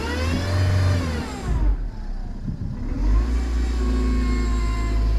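A car engine, suspected of a failing power steering pump, revs up and down close by, with a steady droning whine under the engine note.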